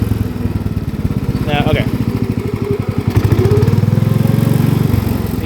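Harley-Davidson motorcycle engine putting and sputtering while riding in low second gear, a loud, steady low throb with irregular stumbles, joined by a brief rising whine midway, with someone talking over it.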